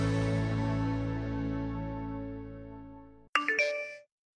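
A phone text message notification chime: a few quick bright ding tones that ring briefly and stop, heard right after a long fading sustained tone.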